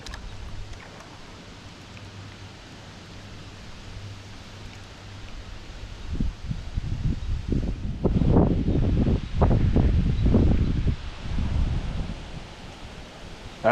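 Gusty wind buffets the microphone outdoors beside the water while fishing, a low steady rush that swells into loud, rumbling bursts in the second half before easing slightly.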